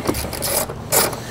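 A ratchet with an extension loosens 10 mm air box bolts on a car, giving two close bursts of rapid metallic clicking in quick succession.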